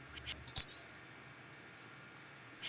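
Computer mouse button clicks, a few quick, close, crisp taps in a cluster near the start, followed by quiet room background.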